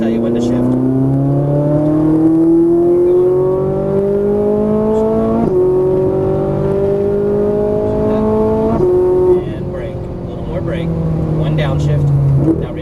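A Ferrari 458 Italia sports car accelerates hard on a racetrack, its engine note climbing steadily through the gears with brief dips at each shift, loud and close, with an instructor talking over it.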